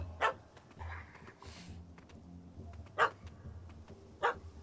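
A dog in The Witcher 3 game barks in sharp single bursts, three clear barks spaced a second or more apart, with soft whimpers and game ambience between them.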